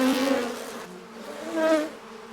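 Honey bees buzz around a hive, a close, wavering drone that swells and fades over a couple of seconds with no voices.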